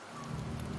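Rain falls steadily in the Septimont area of the video game Wuthering Waves, a short, dense patter with a low rumble underneath, alone without voices.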